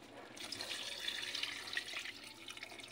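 Water pours into a cooking pot, a soft steady splashing stream that starts after a brief pause and runs on, fairly faint.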